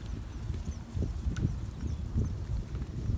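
Horses on a farm in the American countryside walk with clear, close clip-clopping hooves in an uneven rhythm, several footfalls overlapping, with no speech.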